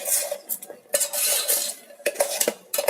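Egg chowmein being stirred inside an electric kettle, with a rapid, busy clatter of a metal utensil scraping and knocking against the pot, close and continuous, with no talk.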